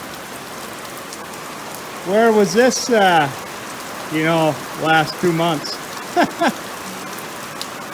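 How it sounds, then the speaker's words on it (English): Steady rain patters on the roof and surfaces around a farm grain storage building, a constant wash of drops heard from inside while someone talks over it in short bursts. "It's rain."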